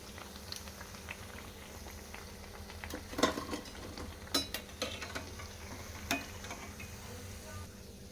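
Corn vadas fry in hot oil with a soft, low bubbling hiss, broken by scattered sharp crackles and pops, quiet and close with no voices.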